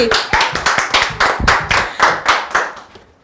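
An audience claps in a steady run of about ten sharp hand claps, loud and close, tailing off at the end, with no talking over it.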